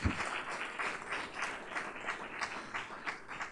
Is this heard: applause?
yes